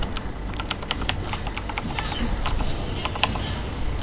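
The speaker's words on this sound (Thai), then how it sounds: "ขออภัยนะถ้าเสียงคีย์บอร์ดดังไปเห็นมีหลายคนถามกันมาว่าทำไมเสียงคีย์บอร์ดดังจัง" Loud, clacky computer keyboard keys are struck in quick irregular bursts during online game play, a close steady patter of keystrokes with no talking.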